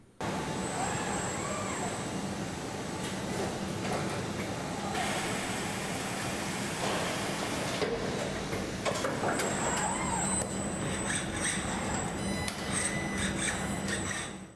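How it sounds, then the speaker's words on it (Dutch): Machinery noise fills the Audi car factory in Ingolstadt: a steady, dense industrial roar with whirring, hissing and intermittent high mechanical whines, loud and continuous throughout, with no voices. "Gaan we even kijken naar de Audi-fabriek in Ingolstadt."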